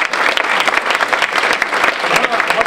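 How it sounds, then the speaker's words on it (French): A crowd at the French final ceremony of the Imagine Cup 2013 applauds loudly and steadily, dense clapping filling the room throughout with a voice faintly heard over it. "oui, vous pouvez vous applaudir."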